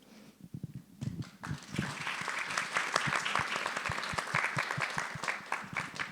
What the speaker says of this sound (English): That clap was for Cecilia.